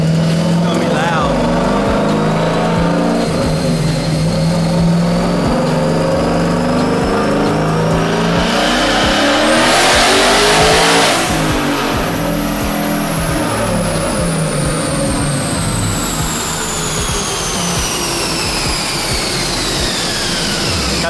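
Twin-turbo Coyote 5.0 V8 in a Ford Mustang GT, run on a dyno in third gear with the exhaust cutouts open. It roars loudly as it climbs steadily through the revs with a rising turbo whine, then backs off and winds down.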